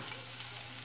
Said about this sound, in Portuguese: Vou dar só uma refogada nisso aqui bem rapidinho.